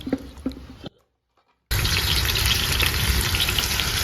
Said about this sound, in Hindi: माँ ने आलू फ्राई करना स्टार्ट कर दिया है मटन के लिए